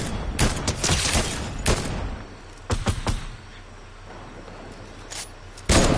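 Gunfire from a Fortnite match: several sharp broadband shots burst out early and then recur in scattered pairs, with a loud blast at the very end over a low steady game rumble.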